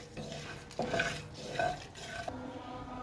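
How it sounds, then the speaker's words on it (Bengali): A spoon scrapes and stirs whole spices, bay leaves and dried chilies in a hot pan of oil. Soft rhythmic strokes with a faint sizzle underneath, close and moderately quiet. "এখানে গোটা মশলাগুলো একটু নেড়ে চেড়ে নিই"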